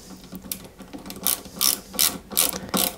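Small ratcheting screwdriver driving AGM screws into a 1/8-scale Citroën 2CV AZLP model kit, heard as a series of quick close clicking bursts in short repeated strokes with no talk.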